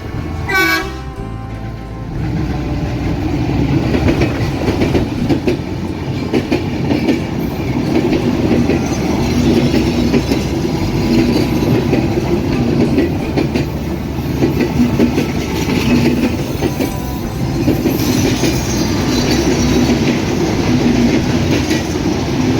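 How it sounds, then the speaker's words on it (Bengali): The 727 Up Rupsha Express intercity train, drawn by a 241-series locomotive, entering Raninagar railway station on line 1 in Bangladesh, a loud continuous rumble with rhythmic wheel clatter after a brief horn-like start, close and sustained. "727 up Rupsa express Raninagar rail স্টেশনের 1 নম্বর লাইন দিয়ে এই মুহূর্তে প্রবেশ করছে"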